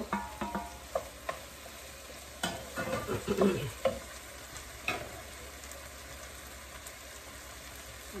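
Bell peppers go into noodles frying in a pan, setting off a burst of sizzling with scraping and clattering stir strokes near the middle before the sound settles into a quieter, steady fry.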